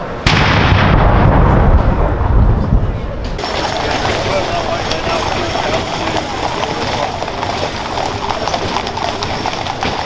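An artillery gun salute sounds at the Queen's funeral, a loud booming blast rolling through the first three seconds, followed by a quieter, steady background of the outdoor crowd.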